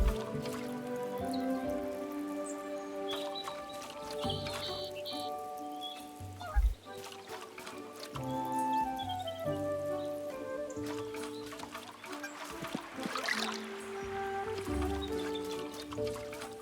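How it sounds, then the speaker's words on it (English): Water trickles and drips steadily as plants are watered in Tales of the Shire, soft and close, over gentle melodic game music and light ambience. "I'll quickly water stuff"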